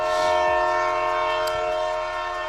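A train horn sounds as a sustained, loud, close chord that holds steady for the whole stretch, with faint rumbling underneath and no talking.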